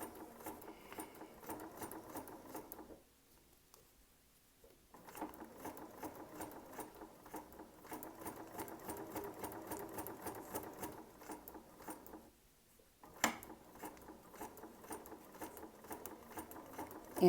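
A sewing machine runs in steady rapid stitching on curved paper piecing, pausing briefly twice as the work is turned, with a sharp click near the end; close and moderately quiet, no talking.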